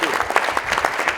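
Applause from a lecture audience at an annual public lecture series, with fairly dense clapping and uneven individual claps standing out.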